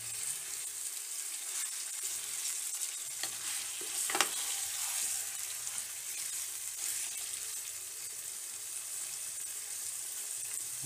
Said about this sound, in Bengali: মাংসটা এখন আমি কিছু সময় চুলার উপরে এভাবে নেড়ে চেড়ে